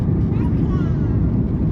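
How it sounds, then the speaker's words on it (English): An American Airlines jet from Miami on final approach into Kingston, Jamaica, gives a steady, loud cabin roar of engine and airflow noise, continuous and even throughout, with a voice speaking over it. "The plane is going over the airport and we are seeing land."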